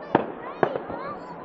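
Fireworks at the Blackpool fireworks championships go off in two sharp bangs with a smaller crackle after the second. The bursts sound distant and echo against steady crowd murmur.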